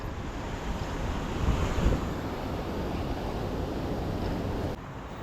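Sea waves breaking on the shore at a fishing spot, a broad continuous rush of surf mixed with wind buffeting the microphone, swelling briefly near the middle, with no voices.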